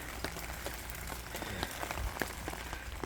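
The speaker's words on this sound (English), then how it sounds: "it just started really raining hard" Heavy rain pours down at a campsite at Hart Springs, a dense steady patter of drops drumming on nearby surfaces with scattered louder splats, close and continuous for the whole stretch.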